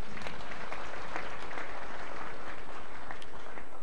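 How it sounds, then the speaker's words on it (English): A church congregation claps together in a dense, steady wash of applause that holds at an even level from start to finish. "Let's clap hands for Jesus."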